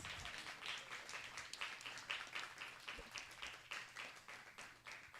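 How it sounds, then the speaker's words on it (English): Faint applause from an audience at a Vedic Sunday school presentation, honoring the teachers, with steady scattered clapping throughout that sounds distant and thin. "Let's have a big round of applause for teachers."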